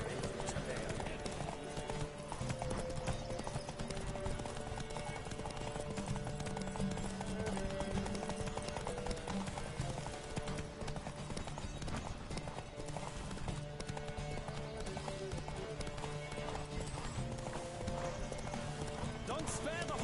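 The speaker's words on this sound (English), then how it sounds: "Don't spare the horse!" Steady galloping hoofbeats of a horse in the video game The Witcher 3: Blood and Wine drum on continuously, with raised voices mixed in over the rhythmic clip-clop.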